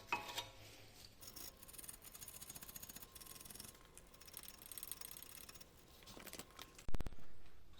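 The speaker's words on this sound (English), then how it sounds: "I'm going to be using a wire brush, something like this. And it's just going to be a case of trying to get all the brake dust out." A wire brush scrubs brake dust off a car's brakes in quick, steady back-and-forth scratching strokes for several seconds, fairly quiet and close, ending with a sharp metallic knock.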